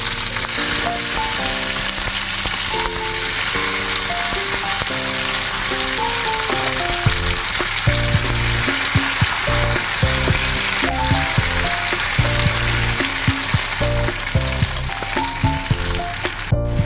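Thinly sliced large tomatoes fry in a pan with a steady, loud sizzle and crackle throughout, while music plays over the cooking.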